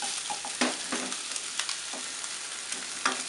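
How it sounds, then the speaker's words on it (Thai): Shrimp stir-fried with chili and garlic in a pan for a glass noodle and cha-om dish: a steady, close oil sizzle with a few louder scraping stir strokes, and no talking. "พอกุ้งเริ่มสุกนะคะเริ่มเปลี่ยนสีนะแล้วก็จะตัก"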